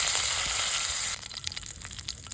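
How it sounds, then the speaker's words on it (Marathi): Curry leaves and cumin hit hot oil in a pan with a loud, sputtering sizzle that drops to softer, crackling pops after a second, heard up close with no voices. "आपण आता पॅनमध्ये तेल टाकून घेऊ चटणीसाठी. कढीपत्ता, जिरं,"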